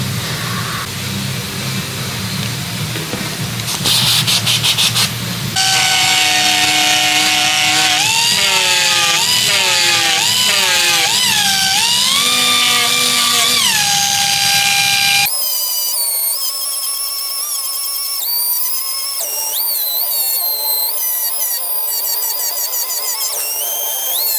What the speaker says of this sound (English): I've hit all the areas with the brown conditioning pad